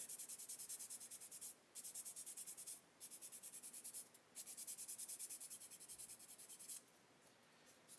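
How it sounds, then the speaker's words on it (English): A sanding stick rubs back and forth over seam lines on a plastic model turret, making close, rhythmic scratchy strokes in quick bursts separated by brief pauses. "Okay, so you just sand that away until it's gone."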